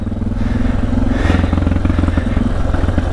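A modified DR motorcycle with carburetor, big airbox and exhaust mods runs at high altitude on a Rockies mountain pass, its single-cylinder engine thumping in a loud, steady, close drone with slight revving and no talk.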